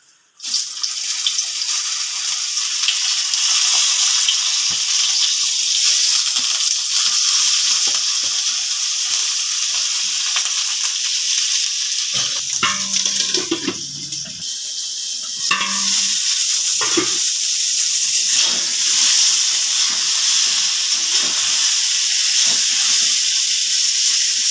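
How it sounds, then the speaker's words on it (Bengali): Eggplant frying in hot oil left over from frying bitter gourd, a loud, dense, continuous sizzle and hiss throughout, briefly dipping midway as pieces are moved, with faint stirring clinks. "ওই তেলে বেগুন ভেজে নেব।"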